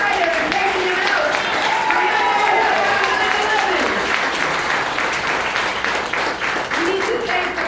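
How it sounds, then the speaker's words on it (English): Loud, sustained applause from a crowd at a political address by New York's attorney general, with voices calling out over the continuous clapping. "A round of applause."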